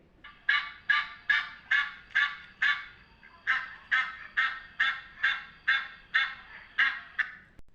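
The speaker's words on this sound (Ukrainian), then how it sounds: "А це гуси." Geese honk repeatedly in a quick, regular run of loud nasal calls, a dozen or so in a row with a brief pause midway.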